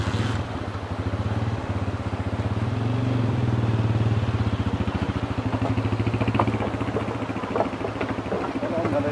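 Several motorcycles pass close by, a loud, steady engine drone with a pulsing, throbbing rumble that runs throughout without a break.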